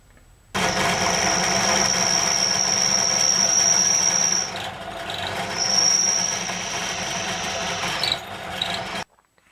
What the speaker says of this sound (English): So there we go, the 2 holes are drilled.